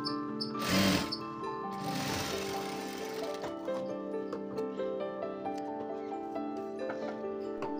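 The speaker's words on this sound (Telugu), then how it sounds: "ఇలా ఫోల్డ్ చేస్తూ టాప్ స్టిచ్ అనేది ఒకటి వేసుకోవాలి పైన." A sewing machine top stitching a folded puff sleeve, rapid rhythmic needle clatter in short runs with a louder burst near the start, close and alone.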